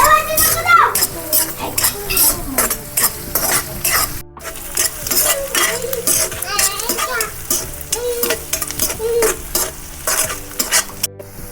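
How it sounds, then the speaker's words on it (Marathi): Onion fries in oil in a pan with a steady sizzle while a spoon scrapes and clatters against the pan in repeated strokes. Someone talks over the cooking and children can be heard faintly in the background. "आता कांदा टाकून घेते गुलाबी रंगावर कांदा तळून घ्यायचा"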